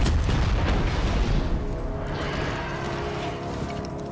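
Gunfire from the Hawkmoon hand cannon in the game Destiny: a heavy booming report up front, its rumble decaying over the following seconds, with no talking.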